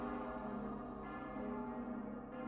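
A church bell rings in the Fate/Grand Order game, its sustained, layered tolling holding steady throughout without any voices.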